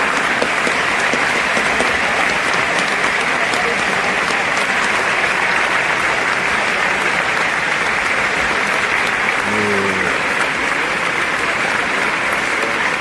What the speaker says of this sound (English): give them a round of applause for what they do every day to keep us alive